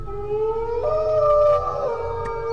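A dog in a cartoon horror story howls as it chases a car, a loud rising wail that steps up in pitch over a low engine rumble.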